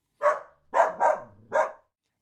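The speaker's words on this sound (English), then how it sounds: "the dog runs to the very back of the big backyard and is barking louder and louder" A dog in a big snowy backyard barks four times in quick succession, sharp and fairly close, with the middle two barks nearly back to back and short silences between.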